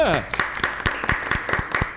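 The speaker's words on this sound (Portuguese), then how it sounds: "Palmas para o Duda!" Sparse hand clapping for a person named Duda on a Brazilian talk show set, roughly a dozen distinct claps in an uneven run, fairly close, after a falling whistle-like sweep at the start.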